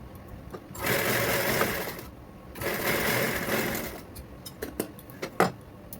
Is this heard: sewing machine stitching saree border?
yes